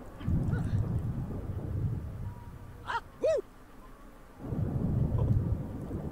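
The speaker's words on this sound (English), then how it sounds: "There's even a thunderstorm and it's not knocking out the power to the computer." Thunder rolls through a Sims 4 thunderstorm, a low rumbling swell at the start and again near the end, with a couple of brief chirpy game tones in the quieter middle.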